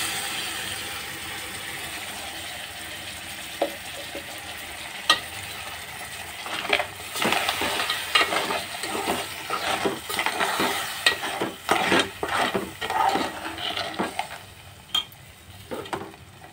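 Clam masala paste with salt, spice and turmeric is stirred and sautéed in a pan: a low sizzle, then repeated scraping strokes of a spatula in an uneven rhythm, close by, without speech.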